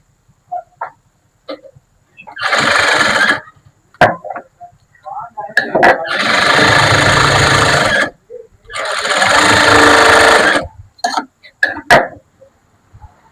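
A sewing machine stitches a normal blouse in short bursts of steady motor whirring, three main runs separated by pauses filled with clicks and handling noises, close and fairly loud.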